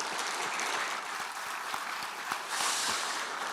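Elected members of a political party at a 2024 assembly clap together, a dense, even wash of applause from a large indoor crowd that holds throughout and swells slightly near the end.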